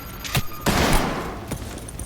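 Close, heavy gunfire in the video game Cyberpunk 2077: sharp separate shots, then a dense roaring volley, then further scattered shots in quick succession.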